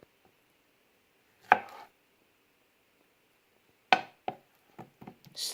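A sharp kitchen knife slicing through a banana on a board: two distinct cuts a couple of seconds apart, each a crisp knock, followed by a few lighter taps and scrapes, close and fairly loud with no talk.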